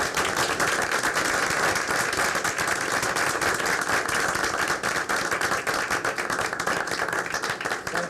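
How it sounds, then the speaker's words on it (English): An audience at a school board meeting claps steadily and loudly for the full length, a dense, continuous applause with no pauses. "Gotta keep clapping. Keep clapping"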